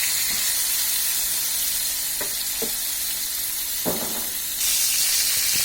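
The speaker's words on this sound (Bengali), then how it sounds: "আমাদের বেগুনটা ভাজা হয়ে গিয়েছে, এখন আর বেশিক্ষণ ভাজবো না।" Eggplant frying in a pan for a katol fish curry gives a steady, close hiss of sizzling oil, broken by a few short scraping stirs, and the sizzle grows brighter near the end.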